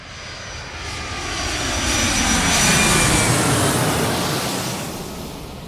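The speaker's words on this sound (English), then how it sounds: "A for airplane." An airplane passes as a sound effect, its engine drone swelling steadily to a loud peak midway and then fading away, heard alone with no voices.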